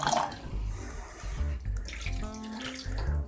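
Water poured into a pan of chicken coated in thick tomato puree, a continuous close splashing and gurgling pour lasting a few seconds with no voices.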